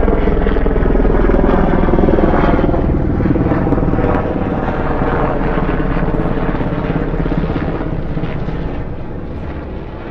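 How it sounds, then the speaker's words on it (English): A helicopter over Central Park, Manhattan, drones loudly and steadily with rotor thumping and wind buffeting, fading slightly toward the end. "There's a helicopter over Manhattan, helicopter over Central Park."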